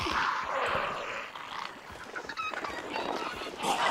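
Clucking fowl in the Hunt: Showdown video game, several chicken calls scattered across a busy, noisy game soundscape, fairly close and continuous with faint voices underneath.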